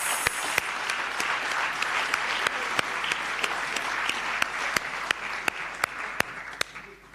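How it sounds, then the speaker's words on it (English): A crowd at a memorial lecture claps for several seconds. The dense, steady applause is punctuated by a few sharp, distinct claps close by, with no talking. "Can we give him another round of applause?"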